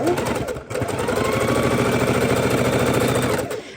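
A sewing machine stitches a triangle onto a fabric bowl holder, running in a fast steady whirring chatter close by, with a brief pause near the start before resuming.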